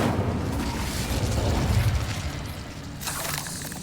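An Incendio fire spell burst in Hogwarts Legacy, a dense rumbling boom that rolls on for a couple of seconds, then a sharper crackling flare near the end, with no voices.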